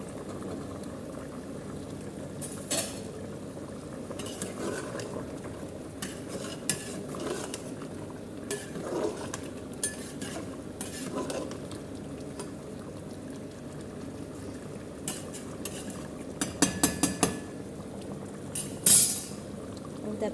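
Okra stir-fried in a pan on a home stove gives a quiet, steady sizzle, broken by soft scattered clinks and scrapes of a spoon against the pan.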